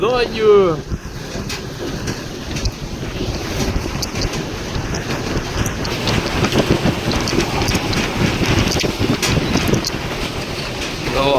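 Strong winter wind roars and buffets the microphone without letup, with a brief voice at the start.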